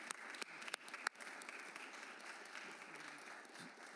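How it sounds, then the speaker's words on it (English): An audience applauds Navy Junior ROTC cadets from Royal Palm Beach High School at an education board meeting, steady dense clapping heard at moderate distance, with a few sharp nearby claps early on. "let's give them a round of applause."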